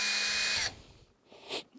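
A power drill bores a pilot hole for a condenser coil upgrade on a home still, a steady high whine lasting under a second, then stopping, followed by a brief faint scrape.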